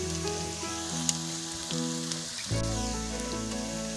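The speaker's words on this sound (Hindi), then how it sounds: "इसे भी ऑयल में अच्छे से फ्राई कर लेंगे।" Garlic and ginger paste fries in hot oil with a soft, steady sizzle under background music, swelling a little louder near the end.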